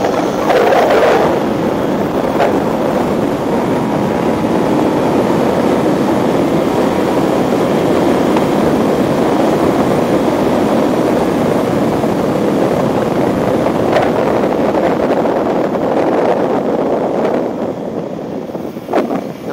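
A motorcycle accelerates at full throttle around Palmer Racetrack with a loud, steady engine roar, heavy wind buffeting over it for about twenty seconds, and no talking.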